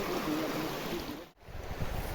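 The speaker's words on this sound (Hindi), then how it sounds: "ये तरफ पानी ज़्यादा जा रहा है ना" Clear water of a village stream flows with a soft, steady rush, briefly dipping to near silence before the gentle burbling resumes, fairly quiet throughout.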